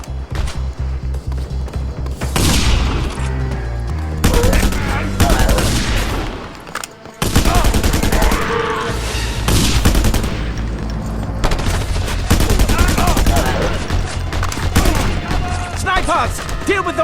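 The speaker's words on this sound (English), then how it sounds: "Snipers! Deal with them fast, Scorpio!" Rapid gunfire rattles almost without pause in the video game Just Cause 2, loud bursts layered with booms and game noise, while voices shout over the shooting.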